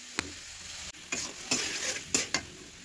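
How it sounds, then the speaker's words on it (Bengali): Prawns fry in a spice paste in a pan with a quiet sizzle, broken by a few sharp scraping stirs of a utensil against the pan, close and without speech. "চিংড়ি মাছটা ভালো মতো কষিয়ে নিছি"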